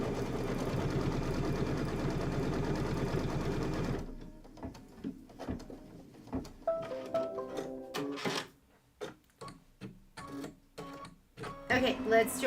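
A sewing machine stitches down an appliqué block, a continuous close mechanical hum for several seconds that gives way to scattered clicks, taps and fabric handling.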